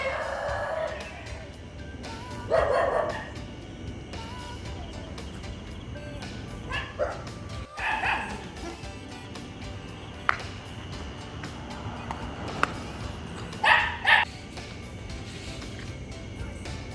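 Dogs chasing a cat near a house bark in short scattered bursts, some sharp and some fainter yips, over a quiet background.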